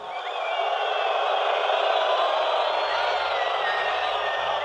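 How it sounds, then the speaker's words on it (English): Crowd at a political rally cheering and whooping in a sustained, loud wash of voices that holds steady throughout, with no single speaker standing out. "The crowd was with him as he attacked Arafat."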